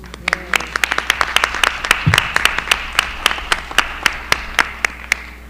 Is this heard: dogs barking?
no